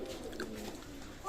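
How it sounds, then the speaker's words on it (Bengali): Pigeons at a seller's loft give soft, faint cooing in a brief low burble against quiet background noise. "চমৎকার 35 কবুতর"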